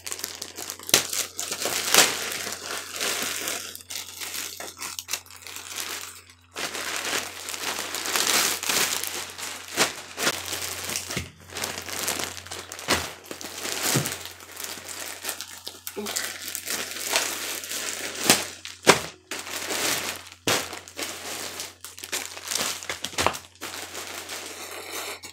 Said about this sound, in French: Ça fait beaucoup de plastique, hein, du plastique dans du plastique.